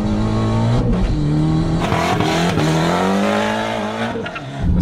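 A rear-wheel-drive car launches hard in a 0-100 acceleration run on exhibition grounds, its engine roaring loud and close as the revs climb and drop through gear changes, with tire squeal mixed in.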